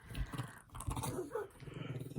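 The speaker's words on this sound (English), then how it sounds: "The dog is growling at something outside" A dog growls at something outside at night, a short, low, rumbling growl that is close and fairly quiet, alone without talk.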